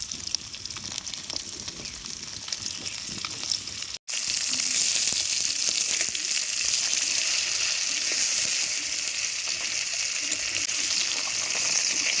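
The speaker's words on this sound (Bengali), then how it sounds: "মরিচ ভাজা শেষ। দিলাম মাছ।" Bata fish hits a hot pan after dried chillies were dry-roasted in it, the steady sizzle cutting out for an instant and then returning louder and fuller, close and continuous, with no voices.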